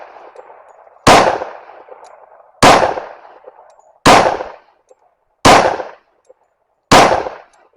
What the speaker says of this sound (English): I'm just gonna test for accuracy on this one, and just run 5 shots and see how well it groups.